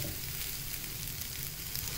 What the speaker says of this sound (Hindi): अच्छी तरह इसे मैं भून लूंगी।